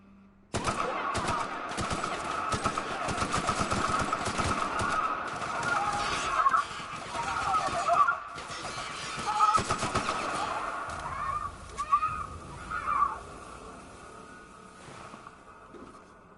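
Rapid gunfire fills a firefight in The Outer Worlds, with dense bursts of shots for several seconds that thin into scattered sporadic shots and fainter echoes toward the end, fairly loud and close.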